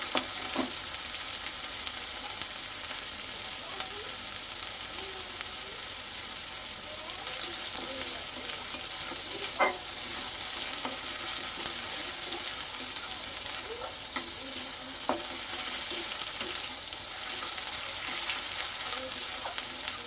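Spices frying in a pan for a duck egg curry, a constant dense sizzle lasting the whole time, broken by a few sharp spatula taps and soft scraping.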